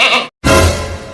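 Two loud, close goat bleats separated by a brief silence, the second longer and wavering.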